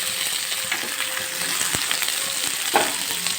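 Onions, tomato, ginger and green chili sizzle and fry in a pan with mint and coriander for a groundnut chutney. The close, continuous crackle is broken by a few stirring knocks.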